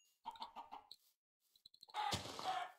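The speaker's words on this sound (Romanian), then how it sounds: "Întâi să omor găinile." Chickens in the video game Minecraft give a short run of quick clucks, then after a pause a louder, noisy game sound bursts in.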